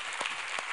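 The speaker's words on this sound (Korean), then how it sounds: "우리 하나님께 감사와 영광의 박수를 드리겠습니다" Congregation applause during a Sunday morning church service, a brief dense wash of many hands clapping with a couple of louder claps standing out.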